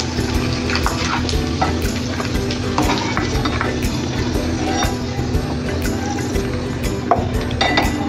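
Dried prawns (sode) frying in hot oil, a loud continuous sizzle with crackling pops and occasional stirring clatter throughout.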